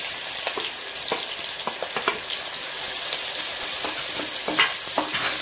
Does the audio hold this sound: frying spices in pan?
yes